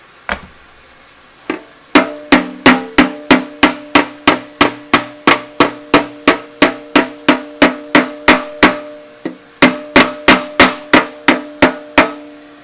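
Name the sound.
reverse curve hammer shaping metal wire edge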